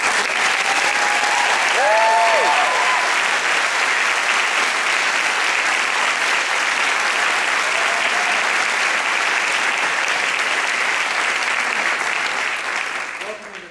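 A large audience at a law school convocation ceremony in 2010 applauds to welcome the co-valedictorians, sustained loud clapping with a few whoops that tapers off at the end.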